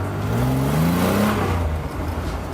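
Replica Lamborghini engine running close by with a loud droning idle whose pitch rises and falls as it revs, steady and continuous with no talk.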